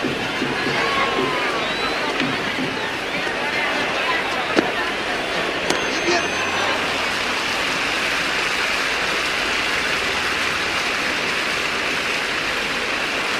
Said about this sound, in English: Listen to the crowd. It's electric in this ground.